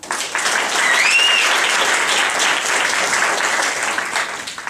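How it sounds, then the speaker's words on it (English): Audience applause at a live talks event fills the room steadily, a dense, loud patter of many hands clapping together with a faint whoop rising above it. "Can I get another round of applause?"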